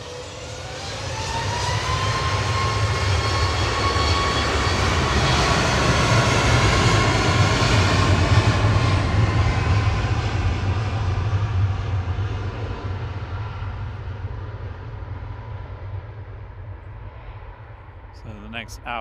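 A Boeing 737 Max 8 jet departs runway 23 left at Manchester Airport, its engines building to a loud, sustained roar that slowly fades as it climbs away, with someone talking over it.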